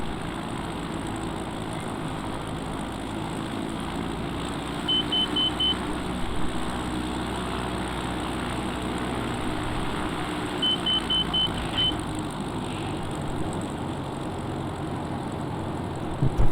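Steady drone of an X Cub light aircraft engine at full takeoff power, a continuous broad engine roar with slight propeller hum, heard from inside the cabin without pause.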